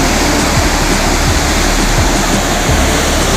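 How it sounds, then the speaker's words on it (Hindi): A waterfall gushing with force, its heavy roar of water crashing loud and steady throughout with no voices. "पानी का उछाल देखिए कितना तेज़ी से है।"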